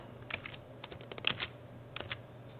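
C program code typed on a computer keyboard, a quiet close patter of irregular key clicks in short bursts, with no voice.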